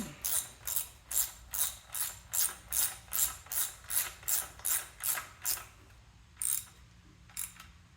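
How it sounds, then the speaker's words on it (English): A ratcheting socket wrench torquing bolts on a Chevrolet Blazer, clicking in a steady run of about a dozen quick strokes, then pausing before two final bursts, close and alone. "And we'll torque them in."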